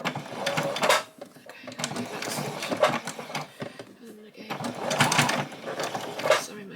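Sewing machine stitching fabric close to the edge of a line while sewing a spring bunny, running in steady bursts with short pauses between them, and a person talking over it.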